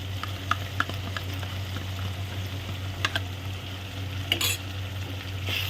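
Yogurt being stirred into frying veg biryani masala in a pot: soft scraping stir strokes over a steady low sizzle and hum, with a few sharper clinks near the end.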